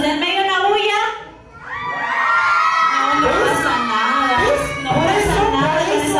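Live birthday show audience of children and adults shouting, cheering and whooping loudly on cue, a sustained roar with a brief dip before it swells again.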